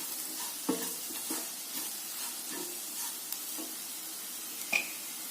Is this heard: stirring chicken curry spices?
yes